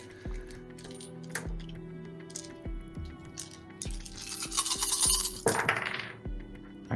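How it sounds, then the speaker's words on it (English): A handful of metal dice, twelve ten-sided dice rolled for a tabletop RPG, rattle and clink like loose change, with a jingling shake building to a bright cascade of impacts near the end. "Sounds like he's rattling change."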